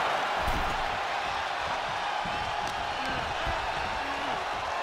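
Steady, loud roar of a wrestling arena crowd cheering during a WWE NXT tag team match, dense broadband noise throughout with scattered whoops, thumps from the ring and faint background voices.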